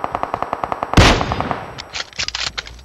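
Rapid automatic gunfire from a battle royale shooter cracks in a steady burst, then a loud close blast, followed by scattered, more distant shots.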